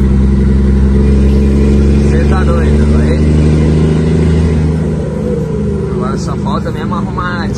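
A diesel truck engine drones steadily from inside the cab after fresh fuel and diesel filters were fitted, a low, loud, constant hum running beneath people talking.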